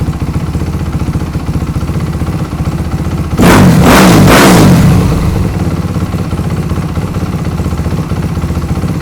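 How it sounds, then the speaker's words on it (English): A four-stroke motocross bike engine idles steadily, then a single sharp rev swells for about a second before the revs drop quickly back to a low idle, close by. "when I rev it up, the RPMs drop really fast"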